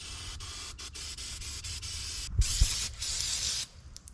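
Spray hiss blasting gunk off a carburetor part outdoors: a steady broadband rush in bursts, briefly interrupted, with a short louder stretch and a few low thumps near the end.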